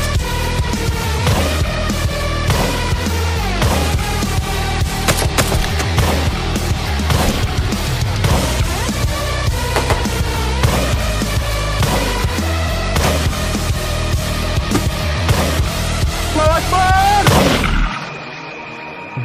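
A PepperBox shotgun is fired in the survival video game Day R Survival, giving a dense, loud, continuous barrage of booming blasts that goes on for a long stretch before cutting off abruptly.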